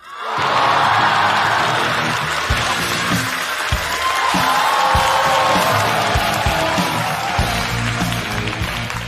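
A studio audience on a Chinese comedy talk show breaks into loud, sustained applause and cheering to welcome actor Jia Nailiang, close and steady throughout with occasional whoops.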